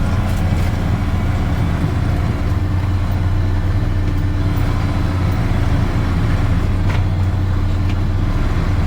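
Tractor-driven bale processor turning a hay bale in a Minnesota pasture: a steady, loud engine drone with a constant low hum and machinery rumble, running continuously and close by without speech.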